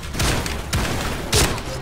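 Three heavy shotgun blasts from the shooter game Point Blank boom in quick succession, each a short, loud, full-band thump.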